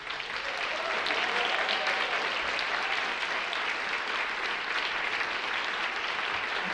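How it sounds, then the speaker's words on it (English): Sustained applause fills an awards ceremony hall for a literary prize event, a steady, dense wash of clapping from a large audience that holds at full strength for nearly seven seconds with no talk over it. "Let's give them all one more round of applause."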